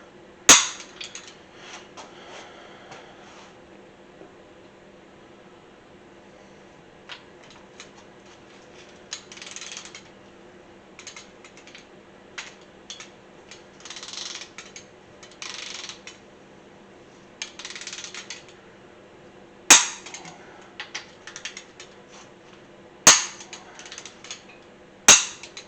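A torque wrench tightens crankshaft bolts on a small-block Chevy 307 engine, giving scattered ratcheting clicks and metallic handling noises, plus several sharp, loud clicks near the end.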